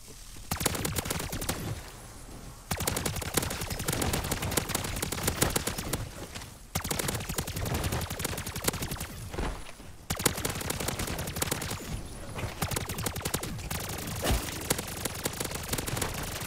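A pack-a-punched weapon in MW3 Zombies fires in long, loud, rapid streams, each sustained burst split by brief pauses, with the rate of fire climbing as the trigger is held.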